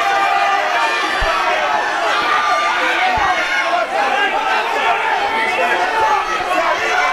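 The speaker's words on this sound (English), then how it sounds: "when you have a crowd like this big and they're yelling" A large crowd roars and shouts continuously, a dense wall of voices with scattered dull thuds beneath the din.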